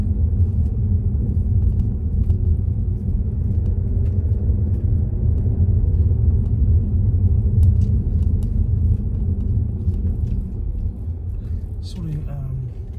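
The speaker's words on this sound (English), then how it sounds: "Here for a few seconds while this car gets past" A car passing on a road through a leafy residential area in the Lickey Hills and Barnt Green, England, gives a steady low rumble that holds for several seconds and then fades slightly. A person talks over it.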